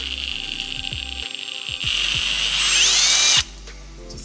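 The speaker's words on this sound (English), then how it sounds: "So I've got the plate in my vise here and I'm just threading these holes." A power tool whirs steadily while threading drilled holes in a water-jet-cut steel plate clamped in a vise, the motor pitch rising and straining briefly before it stops and the whine drops away.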